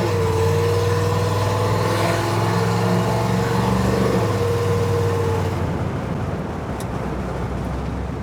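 A small block Chevy fitted with a 950 CFM carburetor revs with a loud, steady droning tone, then the pitch drops and the engine settles as the throttle closes near the end.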